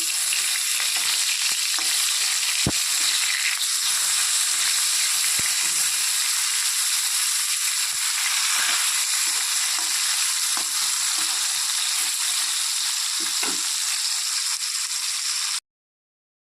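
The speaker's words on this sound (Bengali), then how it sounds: "অল্প অল্প করে ভেজে নিচ্ছি। এক পাশ ভাজা হয়ে গেছে, তো এখন উল্টে দিচ্ছি।" Pieces of kalbaush fish frying in oil in a pan, a loud continuous sizzle with occasional scraping clicks as the pieces are turned, steady for about fifteen seconds before stopping abruptly, no voices.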